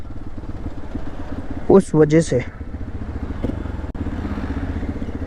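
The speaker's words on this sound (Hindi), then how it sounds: "बिकॉज हमने ये सुपर मोटो बाइक बनाई है" A supermoto motorcycle engine idles with a steady, close, low putter throughout, while someone speaks briefly over it.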